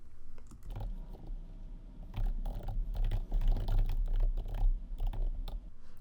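Steady typing on a computer keyboard while a prompt is entered, with quick irregular key clicks that run continuously and close up, with no voices.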